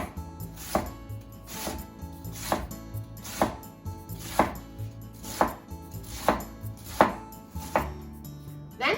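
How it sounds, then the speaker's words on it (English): A knife cuts the stringy bottom part of a vegetable into thin diagonal slices for nikomi udon, giving about ten evenly spaced, crisp chops on a board, close and clear with no talk. "let's cut it into thin diagonal slices"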